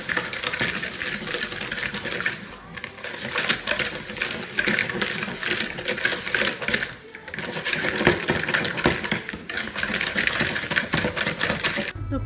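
Sugar whisked briskly into a mousse mixture until pale, a steady rapid clatter of whisk against bowl running almost without pause, with two short breaks and a voice talking over part of it.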